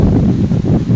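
Steady outdoor wind roaring against the microphone during heavy rain, a loud low rumbling gust with no voices.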